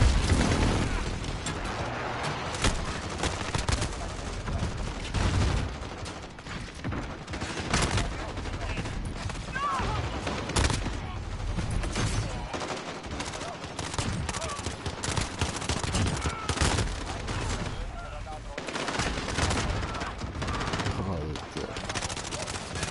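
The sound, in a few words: gunfire from all sides in Call of Duty Modern Warfare video game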